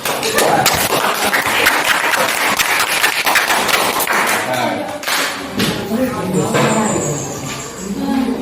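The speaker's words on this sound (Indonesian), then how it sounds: "Kita beri tepuk tangan dulu." Classroom applause as students clap for a group coming to the front, loud close clapping that gives way midway to talking and light tapping and clinking sounds.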